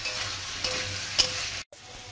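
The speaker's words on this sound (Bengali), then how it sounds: "কিছু একসঙ্গে মশলা আলু সবকিছু একসঙ্গে আবার কষিয়ে নেব।" Fried potatoes stir-fried together with spices in a pan for Bengali rohu fish curry, a steady close sizzle with scraping stir strokes and a brief gap near the end.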